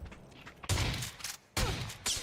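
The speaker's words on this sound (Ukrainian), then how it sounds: "який ти кончений дробовик, я йому впритик стріляю, не можу вкласти ні одного разу" Shotgun blasts in the PUBG video game: two loud, broadband bursts at close range, each ringing out briefly before the next, with a third starting near the end.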